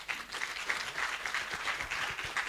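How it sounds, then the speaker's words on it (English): An audience at an Africa Day STEM event breaks into steady, fairly close applause that holds at an even level throughout without stopping. "I feel like a round of applause would be."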